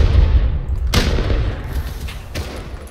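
Gunfire in the online survival game Rust during a base raid: a sharp, loud shot cracks out, then a second, fainter one follows over a dense rumbling background.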